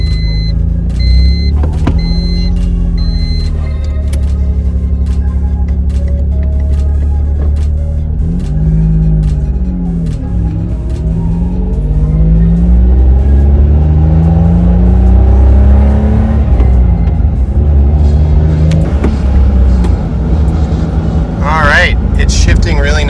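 A Honda Beat drives around the block after an axle seal repair, its engine rumbling steadily and rising and falling through gear changes, loud and close from inside the car, with a brief whir late on.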